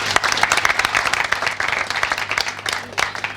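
Audience at a closing ceremony for diocesan training courses applauding loudly, a dense, continuous wash of many hands clapping with a few sharper claps standing out, sustained for the whole stretch.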